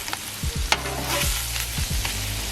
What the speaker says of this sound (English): Here I'm toasting my sub roll.